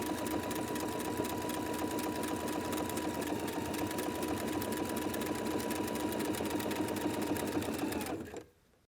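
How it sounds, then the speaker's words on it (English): A sewing machine zigzag stitches a 3/8 inch seam around the top of a knit yoga pants waistband, running in a steady, even whir for about eight seconds before stopping. "I'm going to zigzag stitch with my 3/8 inch seam allowance all the way around the top of the waistband"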